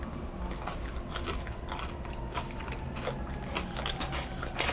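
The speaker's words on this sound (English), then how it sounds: "when you do bite down on the peanut butter cup, you definitely feel the crunch and you taste the saltiness of them" Someone bites and chews a Reese's peanut butter cup filled with potato chips, producing a run of close, crisp crunching and crackling bursts that continue steadily throughout without talk.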